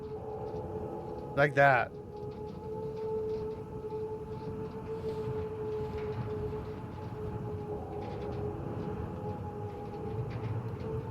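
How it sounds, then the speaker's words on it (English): A siren sounds in the distance within a video game, a steady sustained wailing tone held throughout, while a person briefly speaks early on over it. "Maybe it was just an emergency siren malfunctioning"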